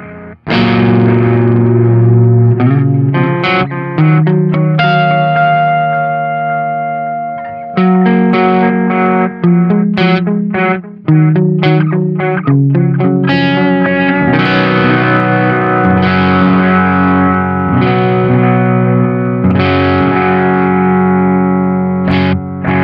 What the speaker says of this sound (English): the Echo Rain is a digital delay pedal, but they've voiced it to sound more like an analog, kind of like a darker sound